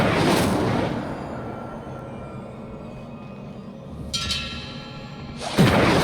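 An Incendio fire spell is cast in Hogwarts Legacy, producing short whooshing, crackling bursts of flame: one at the start, then two more near the end, over a low rumbling game ambience.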